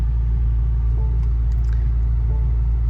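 A BMW M5 Touring's engine running just after startup, a deep, steady low rumble with a constant throb, close and loud with the hood open.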